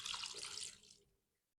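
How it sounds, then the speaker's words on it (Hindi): Roughly a cup of water poured into a pot of spiced meat curry, a soft splashing gush for about a second that fades into quiet, faint and close. "ये तकरीबन 1 कप पानी शामिल किया मैंने"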